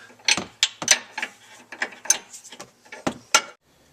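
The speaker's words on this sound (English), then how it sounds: "we're removing the inner fastener on the upper control arm with a 21mm box wrench on the inside" A 21mm box wrench works the inner fastener on the upper control arm of a 2005 Mustang GT, giving a close series of irregular metallic clicks and clanks that stop abruptly near the end.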